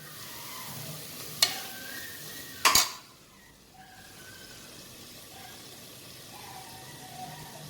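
Ginger garlic paste sautéing in a pan for vegetable biryani: a soft, low sizzle with two sharp metallic clinks of a utensil against the pan, then quieter frying and gentle stirring.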